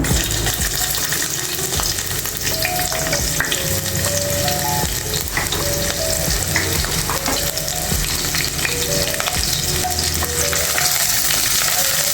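Cinnamon, cloves, cardamom and onions fry in a pan for a mutton curry, giving a loud, continuous sizzle with occasional stirring scrapes and faint musical tones underneath.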